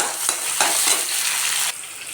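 Tomatoes and green chilies frying in a pan for a curd prawn curry, a steady close sizzle with a few soft stirring scrapes, continuous and fairly loud with no talking.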